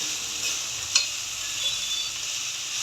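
Food is stirred lightly in an AMC cooker, with a steady soft sizzle of frying and one brief utensil scrape near the start. The sound is close and quiet, with no voices.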